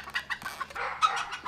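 Hen clucking near a brooder cage with chicks, a quick run of soft, close clucks and chatter at moderate volume, with no voices.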